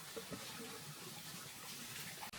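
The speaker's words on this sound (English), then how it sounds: "A little water goes back into the pot before it returns to the stove" Water poured back into a cooking pot at a rainforest camp in Vietnam, a steady close splashing trickle running almost the whole time and stopping abruptly at the end.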